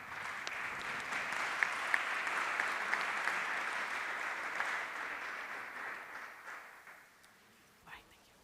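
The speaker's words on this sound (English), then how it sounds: "A round of applause for our speakers" Audience applause for speakers at an EU-African SME summit, a sustained, even patter of clapping from a moderately sized room that gradually thins out and fades near the end.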